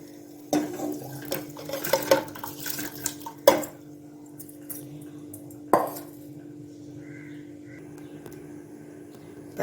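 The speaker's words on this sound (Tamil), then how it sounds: "இப்போ நம்ம ஊற வச்சுருக்க அரிசியும் பருப்பையும் இதில் போட்டுக்கலாம்." Soaked rice and moong dal are tipped into boiling water in a pressure cooker, with a few clinks of a metal vessel and wet splashes over a low steady simmering hum, then a quieter stretch of bubbling.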